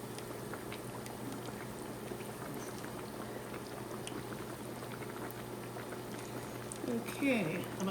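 Cajun fish coated in cornbread mix crackling as it is lowered into hot frying oil, a steady dense sizzle throughout with a louder bubbling burst near the end as the piece goes in.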